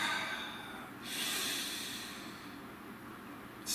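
A person draws a slow, deep breath in, then another begins, airy and close with a quiet pause between them.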